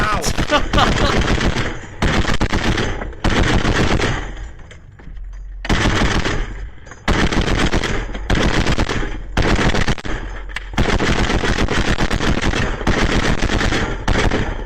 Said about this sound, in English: They're still taking gunfire,